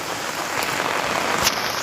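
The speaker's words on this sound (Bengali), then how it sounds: "বৃষ্টিটা খুব জোরে পড়ছে বলে মন্দিরে দাঁড়িয়েছি" Heavy rain pours steadily outdoors, a dense, even hiss with a few louder splashes, close and continuous with no voices.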